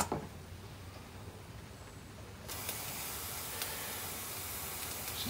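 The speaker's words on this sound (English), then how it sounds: "It's just dumping steam." A Stuart Models live steam engine with a worn O-ring vents steam. Quiet mechanical ticking gives way partway through to a loud, steady, close hiss of escaping steam that lasts to the end.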